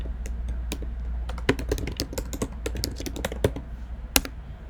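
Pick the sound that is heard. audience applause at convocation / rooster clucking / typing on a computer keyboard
typing on a computer keyboard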